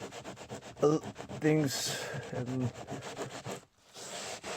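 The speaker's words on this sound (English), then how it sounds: "get scraped off, and then the soap actually starts to loosen up the paint" Paint being scrubbed and scraped off a suitcase with soap and rubbing alcohol, a steady rubbing, scratching noise running under a person's talk with a brief pause near the end.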